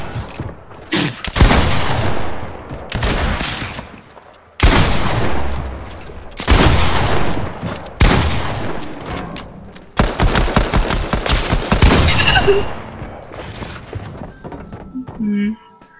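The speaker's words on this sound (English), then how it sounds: "Is that the lever action assault rifle?" A lever-action assault rifle fires in a video game in several loud bursts of rapid shots separated by short pauses, with people talking over the gunfire.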